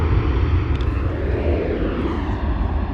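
Ryanair Boeing 737 jet passing close by under misty conditions at London Luton Airport, a loud, steady roar of engines holding strong throughout with no voices.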